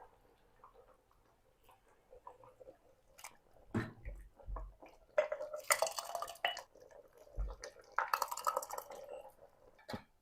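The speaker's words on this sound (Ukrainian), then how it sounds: "і закриваю металевими кришками" Glass jars of cherry jam with chocolate being sealed with metal lids, giving a few sharp clinks and scraping twists of metal on glass in a quiet kitchen, with louder bursts of handling near the end.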